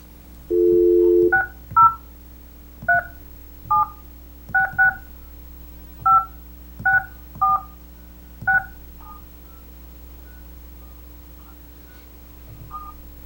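Telephone keypad dialing into a conference call line, a short tone followed by about a dozen crisp touch-tone beeps in an uneven rhythm, clear and alone over a quiet line hum.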